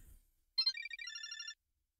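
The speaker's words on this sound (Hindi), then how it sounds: "एक और फोन।" A phone rings in the horror game The Karaoke: two short electronic chirps followed by a longer warbling trill, clear and close in an otherwise silent space.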